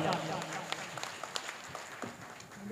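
An audience at a mushaira, an Urdu poetry gathering in Kandhla, Shamli, breaks into scattered applause of sharp individual claps, fairly faint and distant, with a voice talking over the sound.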